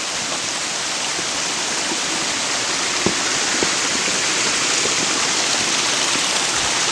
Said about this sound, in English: it's a little waterfall type thing